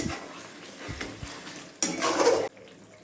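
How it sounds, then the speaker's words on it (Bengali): Mutton kosha being stirred in a pot: soft scraping and clinks of a spoon against the pot, then a louder burst of sizzling as the meat is turned, cutting off abruptly. "এবার আমি একটু নেড়ে দেখি মাংসগুলো কতটা সিদ্ধ হয়েছে"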